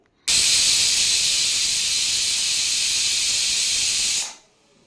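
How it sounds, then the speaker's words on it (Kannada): A pressure cooker releases steam in one loud continuous hiss lasting about four seconds, starting abruptly and then dying away. "ಆ ಕಡೆ ಕುಕ್ಕರು 4 ವಿಷಲ್ ಬರಲಿ, 4 ಅಥವಾ 5 ವಿಷಲ್ ಬರ್ಸಿದ್ರು ಏನು ತೊಂದರೆ ಇಲ್ಲ"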